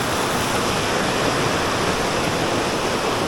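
Clear stream water flowing under shady bamboo trees, a steady, close, broadband rushing and burbling that holds evenly throughout with no voices.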